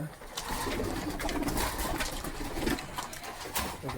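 Pigeons in a loft coo and flutter steadily while being fed at feeding time, with birds close by, soft pattering and wing movement filling the whole stretch.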